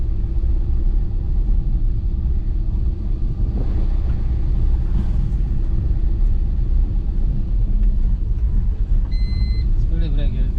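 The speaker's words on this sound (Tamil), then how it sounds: "Third gear மாற்றிக்கிறோம்." A car rolls along a village road in third gear, its engine and road rumble holding a steady, loud, continuous drone up close.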